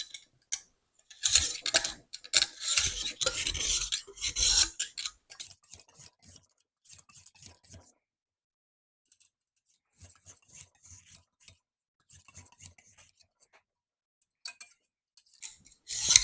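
A knife is drawn through a handheld sharpener in quick rasping strokes, dense at first and then sparser and softer, with silent gaps between passes.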